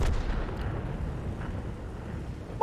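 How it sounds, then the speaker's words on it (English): A tank explosion in World of Tanks: a deep, rumbling low blast that rolls on and slowly fades, with a sharp brief pop right at the end. "one of my teammates just exploded"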